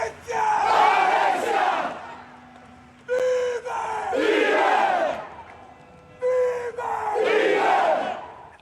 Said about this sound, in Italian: è il coro dei tifosi del Palermo che hanno accompagnato la piccola verso il suo ultimo viaggio